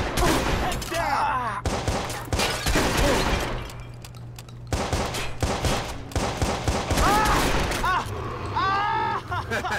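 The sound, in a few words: gunfire in the video game Watch Dogs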